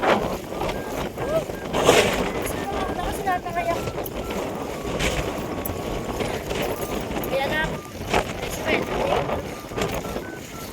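Strong gusting typhoon wind roars and buffets the microphone continuously while a person talks and breathes heavily underneath.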